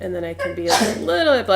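A single sharp sneeze bursts out mid-sentence from a person speaking close to the microphone, loud and brief, with talking just before and after it.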